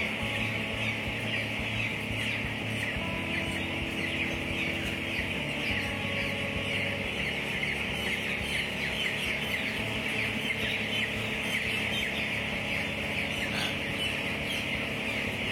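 Chickens in an enclosed poultry house make a dense, continuous bed of clucking and chirping, steady and moderately loud throughout with no pauses.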